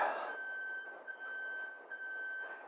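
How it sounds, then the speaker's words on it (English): A home's house alarm beeps with a steady high electronic tone, briefly interrupted a couple of times, fairly faint and alone without talk. "And that is the house alarm."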